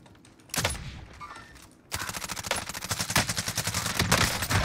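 Gunfire in the online shooter Warzone: one burst of shots, a short pause, then rapid continuous automatic fire that keeps going to the end, loud and close.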